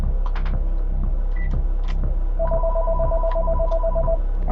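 Telephone ringing inside the video game The Beginner's Guide, a steady electronic ring repeating in a regular pulse over a rhythmic music beat, clear and upfront.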